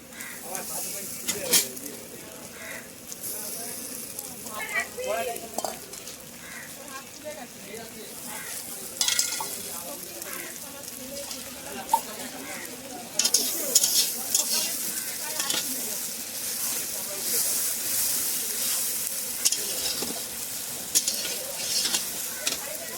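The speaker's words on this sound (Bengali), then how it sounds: "শুকনো লঙ্কা ফোড়ন দিয়ে পেঁয়াজটা ভাজছি। দেখুন পেঁয়াজটা ভাজা ভাজা।" Onion fries with a dried red chili tempering, and then a ginger, garlic and green chili paste is added to the pan. A busy sizzle is broken by stirring scrapes and clinks and grows louder and brighter in the second half.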